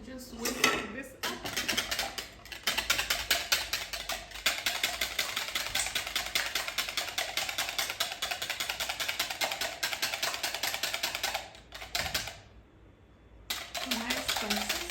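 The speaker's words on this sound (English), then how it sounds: "And then you just whisk this up." Rapid, steady metallic clinking of a whisk beating chocolate cake batter in a bowl, continuous and close, pausing briefly near the end before resuming.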